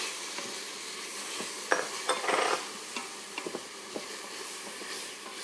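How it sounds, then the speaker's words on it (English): Garlic cloves sauté in oil in an Instant Pot, a soft sizzle under scattered stirring scrapes and light utensil clinks against the metal pot. "We're going to let that saute for just a minute."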